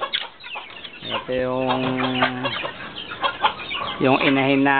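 A hen clucks repeatedly up close, with short, drawn-out calls in an uneven rhythm and some background bird noise.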